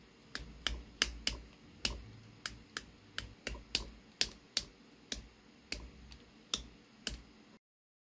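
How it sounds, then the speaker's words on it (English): Sharp, crisp snips of hobby clippers cutting Warhammer model pieces off a plastic sprue, about fifteen close, fairly evenly spaced clicks over several seconds, with no talking. "let's quickly cut the rest of these pieces off."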